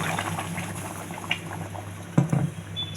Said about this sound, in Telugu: సాంబార్లో వేస్తానండి తాలింపు పట్టుకెళ్ళి